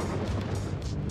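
Gunfire in a video game, a dense continuous barrage of booming shots with a heavy low rumble throughout the whole short stretch, loud and steady with no pauses.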